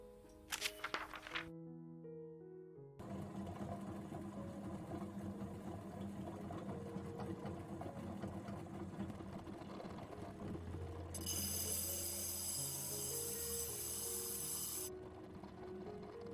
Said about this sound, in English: we're going to fix that on the grinder, and that's what's next.